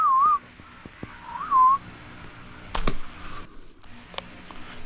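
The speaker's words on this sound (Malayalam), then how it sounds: "നമ്മൾ മീൻ വരാൻ വേണ്ടി ചൂളം അടിച്ചുകൊണ്ട് അടിച്ച് വരുത്തുന്നതാണ്" A person whistles short wavering calls to lure karimeen (pearl spot fish) while slingshot fishing in Kerala, with a couple of brief whistles over a quiet outdoor background and a few soft taps and clicks.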